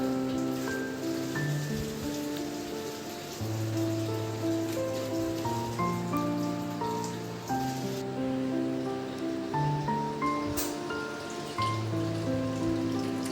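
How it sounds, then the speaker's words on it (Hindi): Clean water is poured into an aquarium over washed stones, making a continuous close trickling and splashing at an even level throughout. "और साफ़ पानी डाल रही हूँ"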